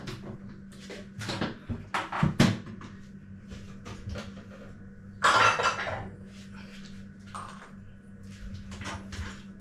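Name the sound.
walnuts being put into a container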